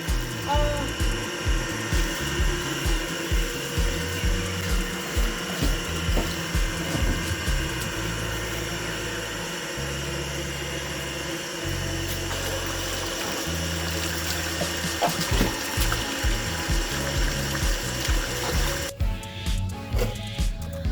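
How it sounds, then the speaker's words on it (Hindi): An electric motor pump supplies cold water for a bath, giving a steady close rushing and whirring with a regular pulsing rhythm throughout, cutting off abruptly near the end. "मोटर का पानी चालू करके इतना ठंडा है यार"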